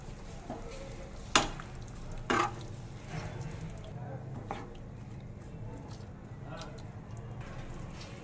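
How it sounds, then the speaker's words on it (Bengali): Pumpkin, ginger paste and chopped tomato are stirred in a pan, making soft, faint sizzling with a few sharp scrapes and knocks of the spatula against the pan. "এবার ভালো করে নেড়ে সব মিশিয়ে নেব।"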